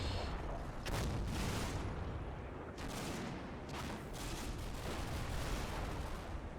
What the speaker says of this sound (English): Yeah, definitely some mortars dropping in.